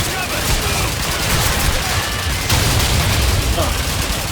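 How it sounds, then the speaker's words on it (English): Battle noise on the Eastern Front in Call of Duty 2 during the defense of Moscow: a dense, continuous clatter of gunfire with dull booms mixed in, loud and close throughout. "Hold on. I'll toss a grenade."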